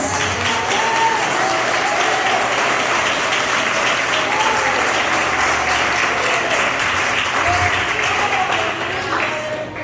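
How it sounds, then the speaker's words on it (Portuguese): A church congregation claps together in praise, a loud, dense and steady wash of applause that holds for the whole stretch, with a faint voice or tone threading underneath. "E a igreja glorifica com as palmas."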